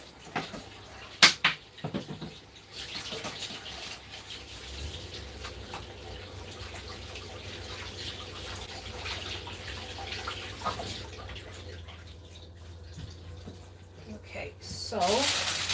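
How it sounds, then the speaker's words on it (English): Kitchen tap running steadily at a sink during a cooking session as hands are washed, a continuous close water hiss with a few clatters near the start and a louder splash toward the end. "I'm gonna wash my hands quickly."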